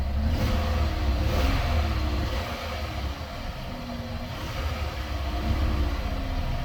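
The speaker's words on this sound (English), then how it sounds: "Let's give it a little gas." An old beater car's engine at an auction, a continuous loud idle rising into a rev and settling back, rough and shaky, with no talk over it.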